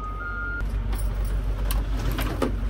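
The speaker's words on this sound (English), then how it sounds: "Heil makes an awesome electric garbage truck." A Heil electric garbage truck: a steady low hum under a short high reversing-style beep, followed by scattered clanks and hisses, like air or mechanical releases, at close range.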